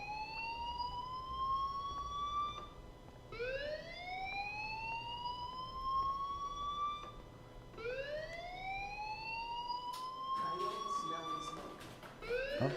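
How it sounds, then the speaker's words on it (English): A school fire alarm in the video game Life Is Strange wails in repeated rising sweeps, each whoop climbing and then holding, cycling about every four seconds with a sharper clatter near the end. "Hey, do you hear that fire alarm?"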